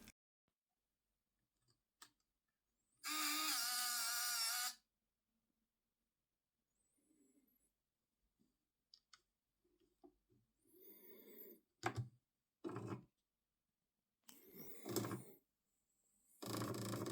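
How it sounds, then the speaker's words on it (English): A TI-59 programmable calculator's attached printer runs in short mechanical bursts: one long, loud buzzing stretch followed by quieter clicks and several shorter rasping bursts near the end, with quiet gaps between and no talk. "He has a very special setup with a TI-59 and a printer."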